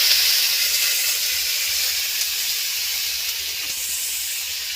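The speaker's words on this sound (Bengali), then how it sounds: "এর মধ্যে আমি জল দিয়ে দেব।" Water poured into spice paste frying in a pan for a koi fish curry, giving a loud, steady hiss of sizzling steam that fades slightly over a few seconds, with no voices.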